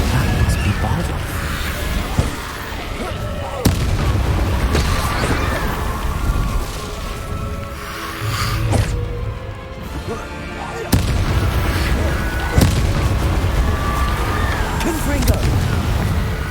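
Repeated Confringo spell blasts in the Hogwarts Legacy video game, booming explosions and crashes landing every few seconds over continuous game music and effects, with a voice heard amid the action.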